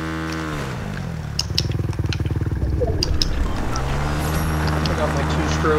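A two-stroke dirt bike engine in Fortnite buzzes with a rapid, close pulsing idle that rises into a rough revving drone, heard beneath occasional game sounds.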